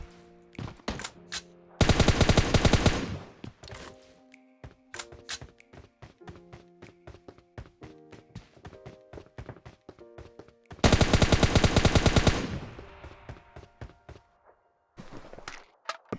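Two long bursts of rapid automatic gunfire in a multiplayer shooter game cut down a bot, loud and close. Footsteps, taps and reload clicks fill the gaps, and a short final burst comes at the end.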